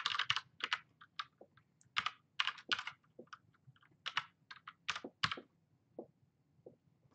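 Someone types on a computer keyboard in bursts of close, crisp key clicks with short pauses between runs. The typing is quiet and heard alone.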